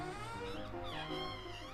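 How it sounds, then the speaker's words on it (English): A cat meows in the Cat President video game, a single drawn-out call over steady game music, fairly quiet and without speech. "I stopped talking when a strange cat entered the office."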